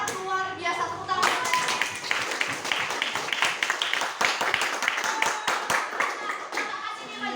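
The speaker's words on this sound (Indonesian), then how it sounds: "Tepuk tangan" A class of students claps their hands after group presentations in a geography lesson, a dense, lively round of clapping after a brief spoken line, with some voices mixed in.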